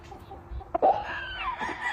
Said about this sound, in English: And beautiful rooster.